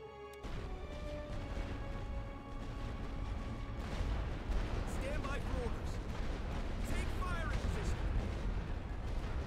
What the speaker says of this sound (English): We're going to do a rolling barrage here.